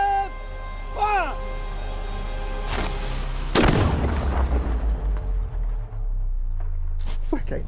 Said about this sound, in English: So it's this cannon, Big Red, which is set to open our festivities.